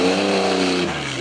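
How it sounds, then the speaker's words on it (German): Porsche 906 Carrera 6 race car, a 600-kilo, 200-horsepower machine, roaring loudly and close by, its engine note holding high and then dropping in pitch as it shifts or passes. "Das ist ein Carrera 6, Porsche 906 ist die Type."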